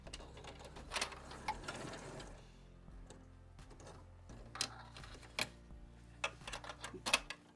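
Sewing machine stitching fabric for a pencil pot, short bursts of quick mechanical ticking and whirring separated by quiet pauses, close and soft.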